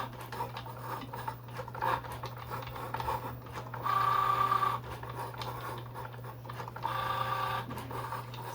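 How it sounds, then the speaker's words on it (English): A Cricut Joy cutting machine cutting out a card: a steady, faint mechanical whir with brief louder motor runs, heard alone at close range. "It doesn't take that long for the Cricut Joy to cut out a card for you."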